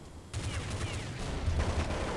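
Rapid Kalashnikov (AK) automatic fire in a Counter-Strike game, a dense burst of shots lasting about two seconds, fairly loud.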